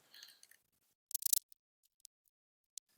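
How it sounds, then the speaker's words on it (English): Zip tie being ratcheted tight to fasten lanai screen mesh to metal T-posts outdoors, a quick burst of close, dry clicking ticks followed by a few scattered single clicks. "now I'm going to zip tie that lanai screen to the T-posts."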